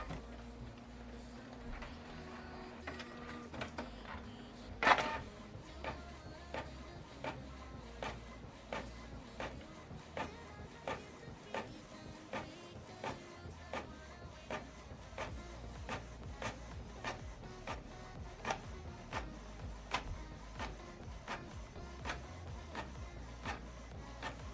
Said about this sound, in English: So now this document is going to print out from this printer,